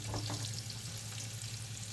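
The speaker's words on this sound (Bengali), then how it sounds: "পেঁয়াজটা যে পর্যন্ত বাদামি কালার না হবে ওই পর্যন্ত পেঁয়াজটা ভাজবেন।" Onions frying in oil in a pan, browning, with a steady close-up sizzle and a low constant hum underneath, no talking.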